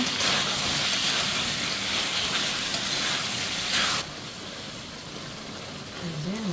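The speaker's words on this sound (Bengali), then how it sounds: "ধুয়ে রাখা পটলটা দিয়ে দিব।" Washed pointed gourd hitting a pan of frying spice paste with green chili slices, a loud broad sizzle and hiss that drops off sharply partway through, leaving a quieter simmering crackle underneath.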